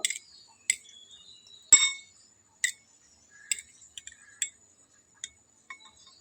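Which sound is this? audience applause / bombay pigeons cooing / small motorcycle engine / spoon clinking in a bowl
spoon clinking in a bowl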